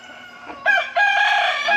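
A rooster crows close by and loud, one drawn-out call rising and holding steady, heard alone with no talk.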